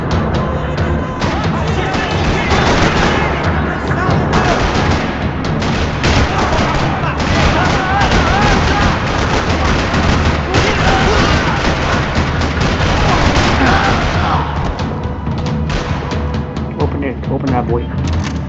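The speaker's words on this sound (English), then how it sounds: "Another parking lot rattling with gunfire" Rattling gunfire in a parking lot in Max Payne 3, with dense bursts of shots, booms and crashes continuing loud and nonstop throughout.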